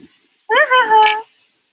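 A pet house cat gives one clear, drawn-out meow close by, rising and then falling, after a short pause of silence.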